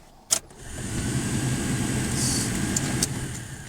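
A 2005 Chevy Colorado engine runs steadily after the key is turned, a continuous mid-pitched hum close by, with a sharp click near the start and a few brief clicks later on.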